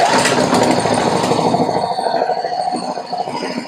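A homemade inverter generator's small engine runs with no load, a loud, close, buzzy rattling drone that starts harsh and settles into a steadier idle.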